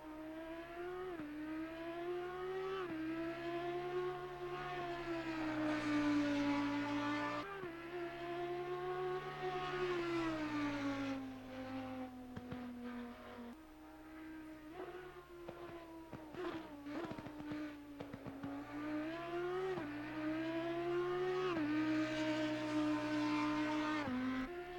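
An Audi EVO race car engine in Assetto Corsa Competizione at Snetterton howls through repeated upshifts and downshifts, pitch rising and falling in long sweeps with occasional crackles off throttle, continuous and prominent, no voices.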